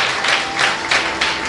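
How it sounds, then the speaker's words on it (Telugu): An audience claps loudly in rhythmic bursts, the applause swelling and fading in quick waves with no voices over it. "గట్టిగా చప్పట్లు కొడదాం"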